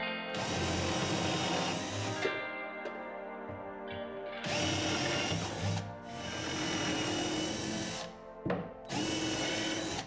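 Power drill pre-drilling fixing holes into wooden slats for a custom machine cabinet, several loud sustained whirring bursts separated by short pauses, close up and with no voices.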